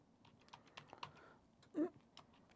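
Typing a name on a computer keyboard, a faint, close sequence of light irregular key taps followed by one louder, longer key press, in a quiet room.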